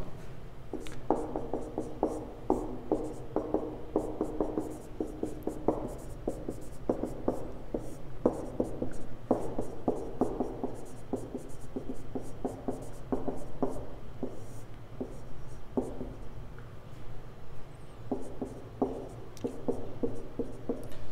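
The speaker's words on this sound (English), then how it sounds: "I'm going to write my binomial expansion formula." Pen writing a binomial expansion formula on paper, a quiet continuous run of short scratchy strokes and taps in an uneven rhythm, close up with no talking.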